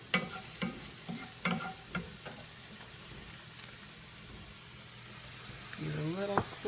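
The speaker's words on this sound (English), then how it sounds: "First, I'm going to saute it a little bit more." Vegetables being sautéed in a pan, with a soft sizzle running throughout and several distinct stirring scrapes and clinks spaced across the clip, close and moderately quiet, ending with a louder burst of activity.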